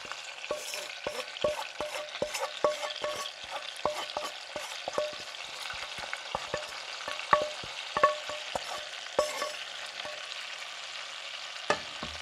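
Shallots frying in foie gras fat alongside capon escalope, a close sizzle broken by frequent sharp utensil taps and scrapes in an irregular rhythm, with a louder clatter near the end.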